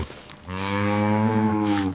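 A single long cow moo, loud and close, rising and holding for over a second before trailing off, with nothing else around it.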